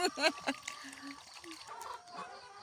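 Chickens cluck near a rural Thai home during feeding, short soft clucks and a brief squawk scattered among quiet background noise, with a person speaking at times.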